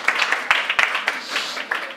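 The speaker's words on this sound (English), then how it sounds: "Okay, very big applause." Audience applause at a tech conference's discovery stage: dense, steady clapping from a crowd with sharp individual claps standing out, fairly close and lasting throughout.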